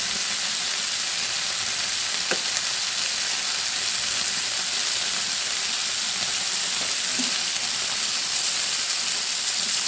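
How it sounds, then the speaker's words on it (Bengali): Eel fish fries in a pan with a steady, dense sizzle and hiss throughout, close and fairly loud, with a couple of faint clicks and no talking. "একটা পাশ আমার হালকা করে ভাজা হয়ে গেছে, আর একটা পাশ আমি হালকা করে ভেজে নেব।"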